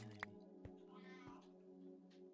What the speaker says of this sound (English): And I just heard a meow.